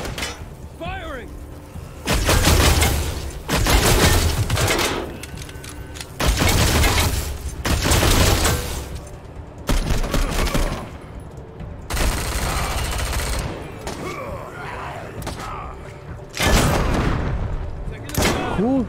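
Gunfire and explosive booms from a Wasteland 3 battle in which scar collectors attack the Ranger HQ: repeated loud bursts of rapid shots and blasts in clusters, with talking mixed in between volleys.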